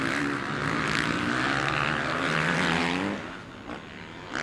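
Drone hovering over a motocross race, a steady loud propeller whine and buzz holding throughout, dropping slightly near the end, with engine noise from the track beneath.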